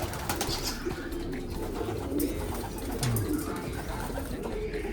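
Pigeon cooing softly in a loft, low repeated coos over steady background hiss, with faint rustling and no clear talk.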